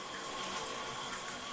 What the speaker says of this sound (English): so we get hot water. And you can hear it, it's good water pressure.